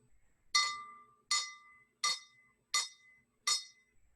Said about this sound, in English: now I'm going to tap the higher filled glass